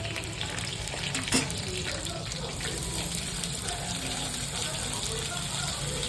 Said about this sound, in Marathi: कांदा छान शिजेपर्यंत त्याला आपण चांगल्याने परतत राहूया